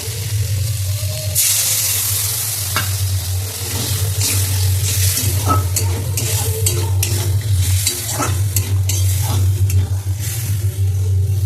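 A loud, steady sizzle rises from a pan of frying spices as water is poured in, joined by stirring scrapes and clatters over a constant low hum, with no speech.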